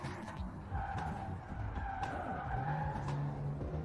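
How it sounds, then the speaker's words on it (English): A 1600 HP Toyota Supra drifts in Forza Horizon 4, tires skidding and squealing continuously over a roaring engine, loud and close throughout. "it drifts, it's really monstrous as a car."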